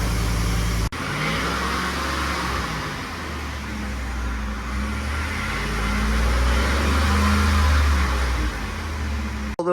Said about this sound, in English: The truck's been sitting overnight, and this is I guess a cold start